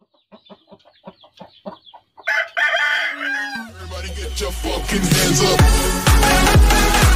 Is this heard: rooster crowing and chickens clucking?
yes